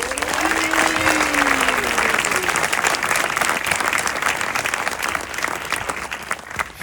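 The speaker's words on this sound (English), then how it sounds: "Mehdi, qui est là, vous pouvez applaudir." Audience applause at a Paris premiere of The Six Triple Eight: dense, sustained clapping from a crowd that holds steady and loud throughout, with a faint voice or two in the mix.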